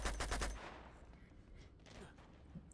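A quick burst of rapid gunfire from the video game Uncharted 2 opens the clip, followed by a fading rumble and softer game noise.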